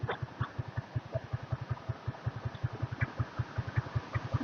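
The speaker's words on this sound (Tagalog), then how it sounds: "Nandito yung motor ni John Ray" A parked motorcycle engine idles nearby in a steady, even putter of rapid low thumps, fairly quiet, with no talk over it.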